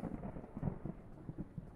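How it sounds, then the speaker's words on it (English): Low, rolling thunder rumbles in the Pets Hotel video game, a steady muffled roar with a few soft swells across the short stretch, moderately quiet with no voices. "You're not scared of the thunder, huh?"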